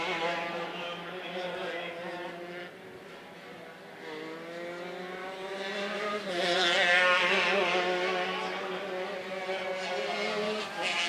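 125cc shifter karts race in a main event at a season-opening kart race, their engines buzzing and revving in overlapping waves. The sound swells louder as the karts pass close and then fades, continuous throughout.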